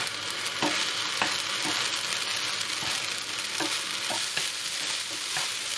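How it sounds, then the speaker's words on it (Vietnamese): Stir-frying with soy sauce, sugar and chili powder, a steady loud sizzle with regular scraping strokes of the utensil against the pan. "Rồi xào lên."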